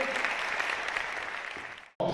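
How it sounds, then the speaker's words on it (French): Loud, dense applause from a live audience at the Eloquentia Bordeaux speaking-contest final, a steady roar of many hands that fades and cuts off near the end, then briefly resumes. "on les applaudit encore très fort"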